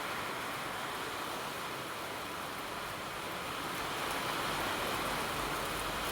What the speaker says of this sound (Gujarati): આજ જે વરસાદ આવ્યો છે ને બહુ સરસ મજાનો આવ્યો છે